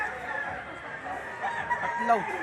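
Stag rooster with yellow legs at a busy poultry market in Lipa, Batangas, giving short clucking and crowing calls amid background chatter and other fowl noise.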